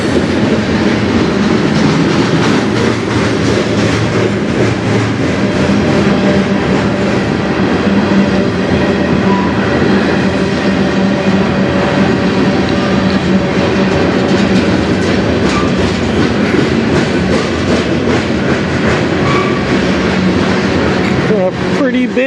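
A CN freight train led by three locomotives rolls past steadily for the whole stretch, heavy rumble and clickety-clack of wagons loud and close, with faint talk underneath.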